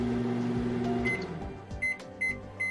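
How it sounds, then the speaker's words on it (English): A microwave oven hums steadily while heating bananas, a low motor drone with the turntable running, then three short electronic chime beeps at the end. "After 120 seconds pass, the microwave chimes."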